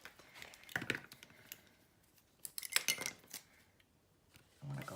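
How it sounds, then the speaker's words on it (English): Cutter Bee craft scissors are handled at a worktable while assembling a botanic garden journal, giving scattered light metallic clicks and snips in short bursts, close and fairly quiet. "Where's my cutter bee scissors?"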